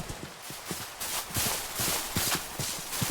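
Horse hooves clip-clop steadily in the Minecraft video game, a rhythmic series of close, even footfalls with no talking.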